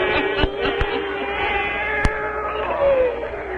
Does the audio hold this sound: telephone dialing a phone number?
no